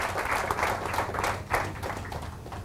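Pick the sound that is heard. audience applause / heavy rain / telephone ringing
audience applause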